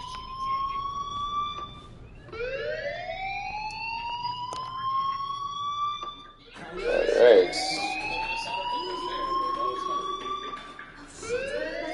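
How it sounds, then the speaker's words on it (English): A school fire alarm in Life is Strange Remastered wails in repeated rising sweeps, each climbing tone held before restarting, loud and close, with a brief spoken word and game noise in the middle. "Hey, do you hear that fire alarm?"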